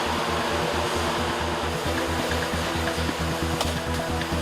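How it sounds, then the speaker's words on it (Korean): A steady, breathy roar of air being blown gently into molten glass in a glass factory, with a low rhythmic throbbing pulse running underneath throughout. "한 번에 크게 불면 터질 수 있어 살살 달래듯 바람을 불어넣습니다."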